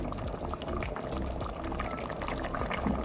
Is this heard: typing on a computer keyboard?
no